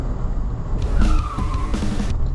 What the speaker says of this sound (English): pulling up for my first drift for the first corner